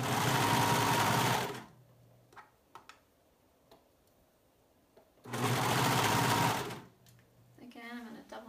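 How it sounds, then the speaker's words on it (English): A serger sewing the side seams of a swing dress runs in two loud, fast whirring bursts separated by a quiet pause with a few small clicks. "I'm going to go over to the serger now, and I'm going to serge those side seams"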